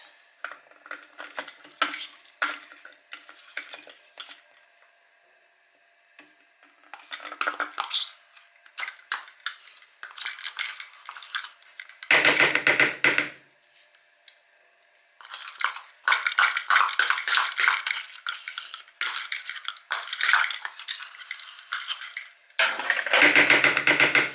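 Sticky peanut butter being stirred into a baking mixture in a bowl, giving bursts of scraping and clattering utensil sounds separated by short quiet pauses, close and fairly loud.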